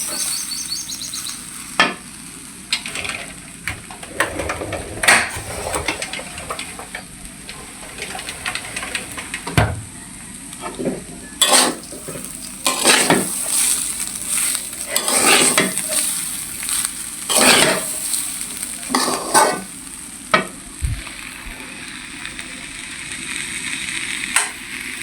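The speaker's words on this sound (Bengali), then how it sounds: "তারপরে তো এখন ভাজে নিচ্ছি" Soaked polao rice fried and stirred in a pot, a steady close sizzle broken by repeated scraping and clinking of a spoon against the metal, no talking.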